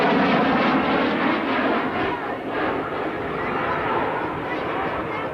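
A Harrier jet powered by a single Rolls-Royce Pegasus engine roars at a 1986 RAF Halton airshow, a loud, continuous broadband engine rush that holds steady throughout.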